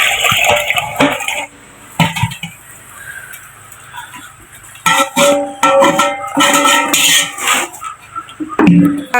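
Arrowroot mixture is moved into a single vessel, with loud, uneven clanks and scrapes of metal pots and utensils close by and some talking between them.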